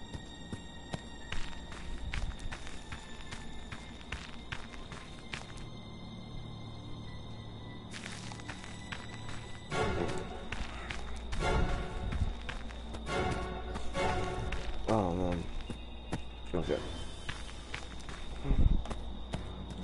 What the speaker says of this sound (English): Oh yeah, then footsteps.